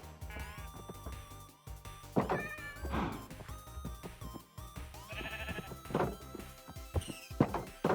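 Minecraft animal sounds: bleating and cat meows over a steady game soundtrack, with occasional thuds and clanks mixed in.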